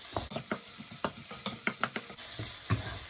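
Spring onions frying in hot oil for egg fried rice, stirred with quick repeated scraping strokes over a constant close sizzle, no voices.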